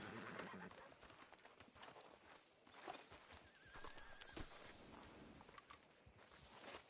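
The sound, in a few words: horse in Red Dead Redemption 2 video game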